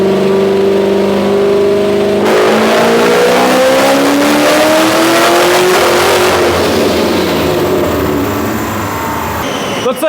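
Boosted LS-engined car on a dyno, engine loud and close, revving steadily upward under load with a rising whine, then easing off near the end.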